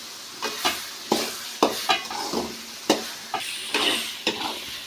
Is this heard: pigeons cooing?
no